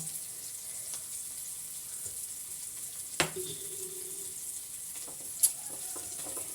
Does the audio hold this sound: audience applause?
no